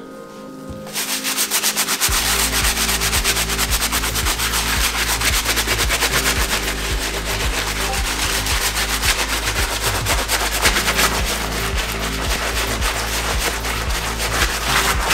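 Jordan 3 sneaker outsoles being scrubbed, a loud, continuous rapid rasping rub of bristles against rubber held close and steady throughout.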